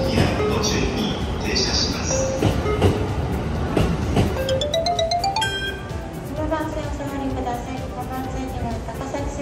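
The Sunrise sleeper limited express train rolls into a station with rumbling and rhythmic wheel clatter, a rising electric whine, and a brief chime, while people talk over it nearby.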